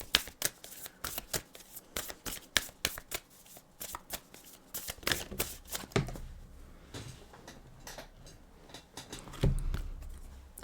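A deck of cards is shuffled up close during a card reading, giving steady rapid riffling and sliding bursts. The rhythm is dense at first and then turns into looser shuffles and taps, with no talking.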